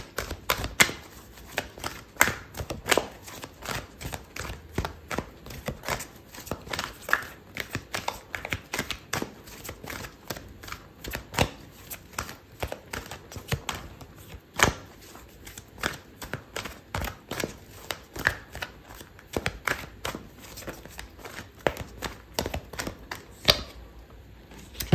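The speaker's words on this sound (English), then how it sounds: "Okay, so I'm gonna pull out a card for your advice" Tarot cards being shuffled and drawn for a reading, a long run of quick crisp riffling and flicking taps close up, steady and rhythmic with occasional sharper snaps, no talking.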